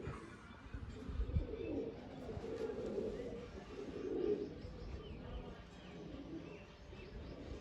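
Pigeons coo softly and repeatedly at a pigeon loft, a steady low murmur of cooing with a few faint chirps, mostly alone with little talk.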